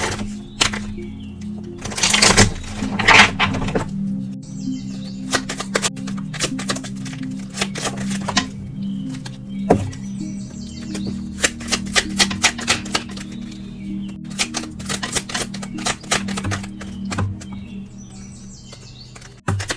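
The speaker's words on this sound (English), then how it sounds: "Bear with me while I shuffle real quick." Tarot cards being shuffled by hand at close range, a rapid run of crisp riffling snaps and soft slaps in uneven bursts, with no talking over it.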